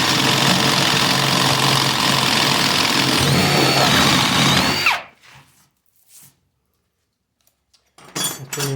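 A Ridgid Stealth Force driver bores through wood with a 1-inch Spyder spade bit, a loud steady whirring drive for about five seconds that cuts off abruptly, followed by near silence and a few faint handling clicks.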